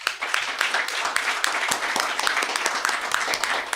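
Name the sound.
audience applause for silver medal winner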